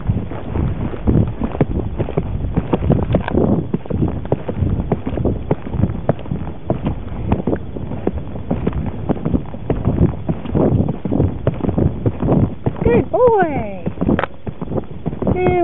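A pony canters along a trail in LaPine State Park, hooves drumming in a fast steady rhythm close by, mixed with wind buffeting and the rider's occasional voice.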